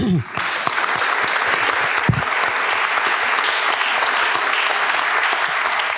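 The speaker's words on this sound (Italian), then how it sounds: "io vi chiederei un applauso per loro" An audience in an Italian event hall breaks into applause for the volunteers, a dense, even clapping from many people that starts abruptly after a brief voice and holds steady and loud throughout.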